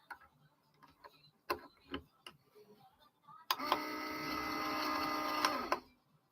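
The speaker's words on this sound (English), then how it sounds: "I'm just gonna wind a bobbin here." A sewing machine winds a bobbin in a steady whirring hum lasting a few seconds, fairly close and clear, after a handful of quiet clicks and taps from setting it up.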